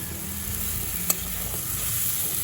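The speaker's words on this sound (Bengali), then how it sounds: "মশলার সাথে, আলুর সাথে, টমেটোর সাথে আবার কিছুক্ষণ আমি কষিয়ে নেব।" Tomatoes being sautéed with spices and potatoes in a pan for chhanar borar dalna, a steady close sizzle with soft stirring scrapes and one brief sharp clink midway, no talk.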